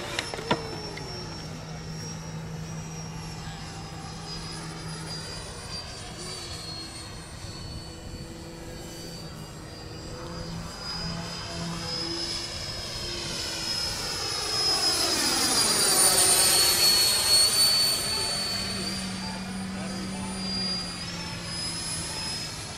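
A radio-controlled model L-39 jet with a 105mm electric ducted fan makes a high-pitched whine that swells to a loud, close pass and then fades, heard on its own with no talk.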